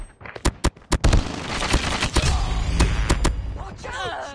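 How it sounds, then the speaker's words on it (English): Sentry gun in the mobile shooter Call of Duty Mobile, firing rapid sharp bursts of gunshots in an uneven cluster, loud and close, with game voice lines and effects mixed in. "Sentry gun deployed."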